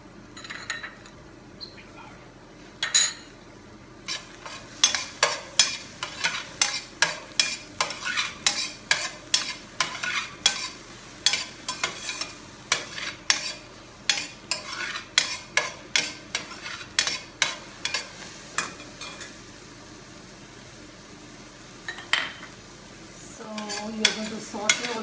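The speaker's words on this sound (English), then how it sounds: "You're going to saute almost 3 to 4 minutes until the color changes." Vegetables for spinach enchiladas are stirred and sautéed in a pan with a little vegetable broth, giving a steady soft sizzle under repeated utensil scrapes and clinks against the pan.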